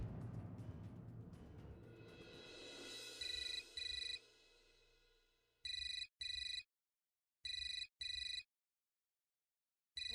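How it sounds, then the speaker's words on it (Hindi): A telephone ringtone trills in repeated bursts at home, first over a fading domestic hubbub, then alone in a clear on-off pattern with silent gaps between the rings. "किसका फोन है?"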